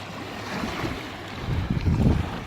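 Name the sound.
water lapping against camera tripod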